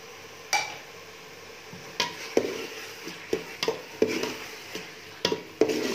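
Pumpkin halwa with crushed coconut being stirred and roasted in ghee, with a spoon scraping and knocking against the pan in irregular strokes over a faint sizzle.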